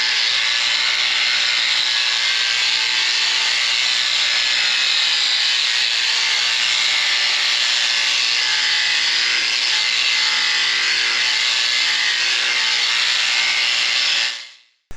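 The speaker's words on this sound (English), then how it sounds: "I'm gonna have to grind and smooth this anyways, wire wheel it" A grinder with a wire wheel works painted metal smooth, giving a loud, steady abrasive whine with a dense hiss that runs unbroken for about fourteen seconds before spinning down. No voices.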